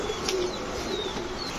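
A Sundori Jira pigeon, an old-generation breed, coos softly and steadily in the background for under two seconds over faint ambient noise, with no talk.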